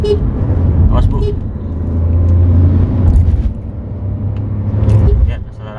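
A Daihatsu Rocky with a 1000cc three-cylinder turbo engine accelerates through the gears. A low engine drone rises and falls in waves beneath a voice talking inside the car.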